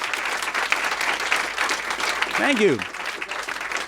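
Audience applause at a book talk by a humorist, a broad steady wash of clapping throughout, with a voice speaking briefly over it near the end.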